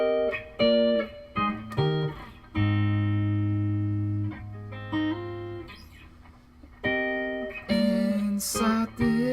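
Electric guitar playing the bridge of an unreleased song, clean sustained chords and single notes ringing out alone, with a held low chord in the middle and brighter strummed accents near the end.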